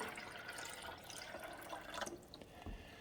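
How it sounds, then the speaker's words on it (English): Fresh water poured from a measuring cup into the reservoir of a Keurig K-Slim coffee maker, a faint soft trickle and splash, quiet and continuous, with no voices. "So we're going to dump 14 ounces of fresh water in."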